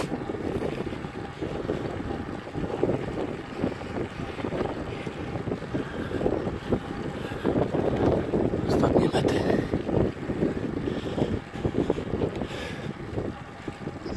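Strong gusty wind buffets the microphone near a mountain summit, a loud, continuous roar that swells and eases, with a voice speaking over it.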